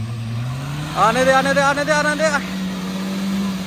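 An off-road car engine strains in deep mud, its low drone rising in pitch as it revs for a moment before easing back to a steady hum, with a brief spoken call over it.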